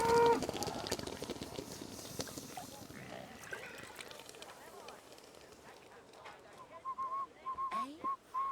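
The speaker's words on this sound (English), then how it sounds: "What is he whistling?" A character whistles in a soldiers' camp in Kingdom Come: Deliverance 2: short, clear whistled phrases near the end, heard over a rustling outdoor ambience.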